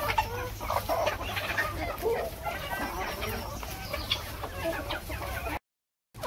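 Chickens in a farm field feed on harvested rice stalks, clucking steadily and close by over a low rumble of background noise, with no talk.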